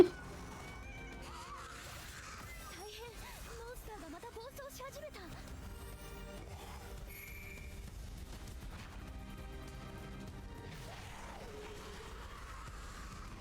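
Meows and cat cries come from a cat in the video game Blue Protocol Star Resonance, faint and scattered under a person talking over game music and effects.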